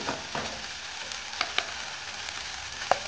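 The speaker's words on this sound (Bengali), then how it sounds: "এখানে আমি সাদা তেল দিয়ে আর মটরশুঁটির পেস্টটাকে দিয়ে দিয়েছি।" Pea paste frying in white oil in a pan for Bengali pea-stuffed paratha, a steady soft sizzle with a few sharp pops and stirring scrapes, close and alone.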